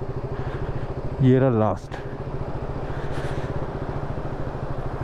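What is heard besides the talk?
motorcycle being parked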